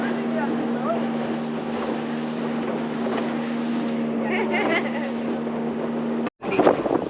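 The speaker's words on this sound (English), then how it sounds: "We're on a speedboat." Steady engine drone of a speedboat in Fiji with rushing wind buffeting the microphone, a brief cut near the end, then louder gusts and faint voices.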